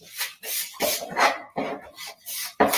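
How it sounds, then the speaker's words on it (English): A wooden spoon scrapes butter and sugar against a bowl in repeated rough strokes, about six rasping pushes with short pauses between them, close and fairly loud, with no talking. "use the back of your wooden spoon and just keep scraping and scraping until that sugar starts to disappear"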